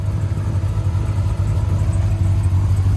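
A 2016 Chevrolet Corvette Z06 tuned to 815 wheel horsepower rumbles from inside the cabin, its exhaust a steady low drone with no voices over it.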